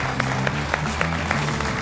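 A television comedy show's studio audience applauds in a steady wash of clapping, with a few sharper claps standing out and a low tonal hum underneath.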